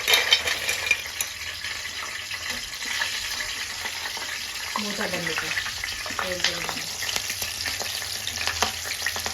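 Green chillies fry in hot oil with a steady, close sizzle and crackle that continues throughout, with a voice heard faintly for a moment midway.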